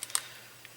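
A Sharpie fine tip click pen gives a few faint, tiny plastic clicks within under a second.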